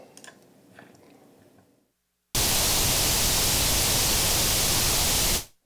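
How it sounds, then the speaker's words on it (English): Ungated pink noise used in mixing an 80s snare drum sound starts after a short stretch of low background, then hisses loudly and evenly for about three seconds before cutting off sharply. "But this is actually pink noise. So like it says here, so this is what you would hear if I took the gate off."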